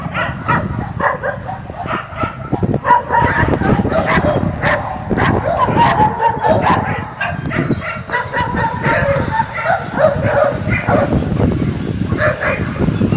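Many dogs bark at an animal shelter, a dense, continuous chorus of overlapping barks and yips at close to moderate distance, loud throughout.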